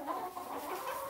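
Homestead chickens at a farm squabbling, a brief burst of agitated clucking and squawks, close and moderately quiet.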